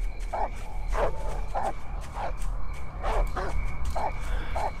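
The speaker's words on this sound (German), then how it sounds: "Ah! Der Hund!" In a horror video game, a dog barks repeatedly in a quick, uneven series of sharp yips over a steady low rumble, fairly close and moderately loud, with no talking.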